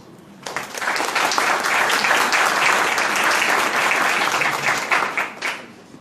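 An audience at a lawyers' commemoration ceremony applauds the commission presidents, a dense, even burst of clapping that starts abruptly, holds steady for several seconds, then tapers off.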